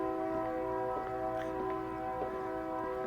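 A passing train sounds a long, steady horn that holds for the whole stretch, with a few brief higher tones flickering over the continuous drone.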